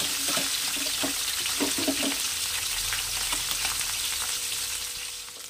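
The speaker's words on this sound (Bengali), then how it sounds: "তেল গরম হয়ে গেছে, এবারে আমি মাছগুলো আস্তে করে ভেজে নেব" Tangra fish sizzle and crackle steadily in hot oil, a dense, close frying hiss with occasional soft pops and stirring noises throughout.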